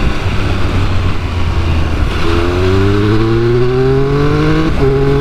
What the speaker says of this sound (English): Listen to this induction noise. It's absolutely phenomenal.